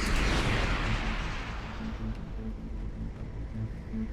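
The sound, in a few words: missile fire and explosion in Starcom video game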